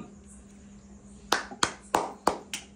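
Five sharp bursts of hand clapping, spaced roughly evenly, ring out over a low steady hum in a family game of matching mutton curry and eggs, each clap distinct and fairly close.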